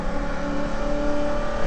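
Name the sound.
Holden Commodore VK V8 race car accelerating flat out, onboard at Bathurst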